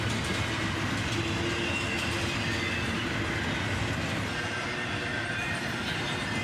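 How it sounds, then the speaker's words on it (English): A long CSX freight train hauled by locomotives rolls past close by, a loud unbroken roar of wheels and rumbling cars with clattering rail noise and a faint squeal, no voices. "This one was a big train that just seemed to go on and on"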